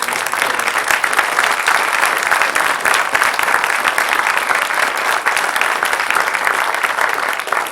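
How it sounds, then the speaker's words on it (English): An audience at a Caddo Parish public schools ceremony applauds steadily and loudly, a dense wash of clapping that holds even for about eight seconds without a break. "please give a round of applause for"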